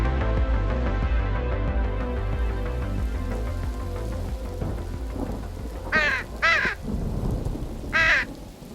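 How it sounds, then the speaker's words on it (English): Inside an apartment, a crow gives three harsh, loud caws near the end, heard over a steady rumbling background like rain and thunder. "I have a crow inside my apartment."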